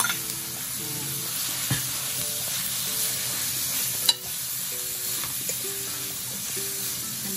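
Meat sizzles steadily in a hot pan with garlic and onion, a constant loud frying hiss with an occasional clack of a utensil and no voices.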